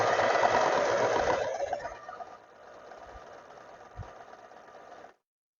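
A sewing machine stitches trouser fabric with a steady close whir that loudens at first, then runs softer until it stops near the end.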